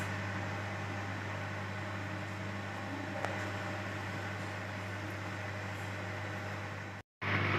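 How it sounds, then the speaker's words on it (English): An electric oven preheating to 180 degrees for baking buns, giving off a steady, even mechanical hum with a low drone that carries on unchanged before briefly cutting out near the end. "my oven is getting preheated"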